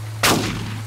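A single loud rifle gunshot in the hunting video game Cabela's Big Game Hunter, a sharp close blast with a short decaying tail over a constant low hum.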